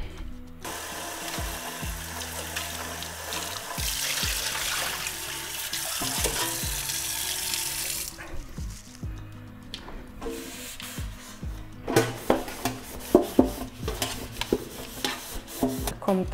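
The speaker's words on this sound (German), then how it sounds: "werde ich erstmal den Behälter und den Grillrost spülen." Tap water running over an air fryer basket and grill rack being rinsed in a sink, a steady rushing stream for about eight seconds, then lighter splashing, knocking and scrubbing of the metal parts at close range.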